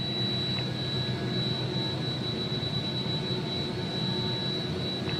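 An AW-109 helicopter engine in the P3D flight simulator holds a steady, unbroken turbine whine with a constant high tone over a broad rushing drone. It plays alone, with no voices.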